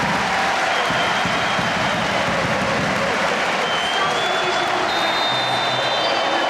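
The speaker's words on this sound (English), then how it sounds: "And Torrent gets the applause, deserved applause," French fans in a stadium applaud a substituted player leaving the pitch during a Women's World Cup match against Brazil, producing a steady, dense wash of clapping and crowd noise that holds evenly throughout.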